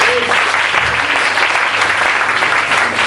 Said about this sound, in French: Alors on acclame le Seigneur.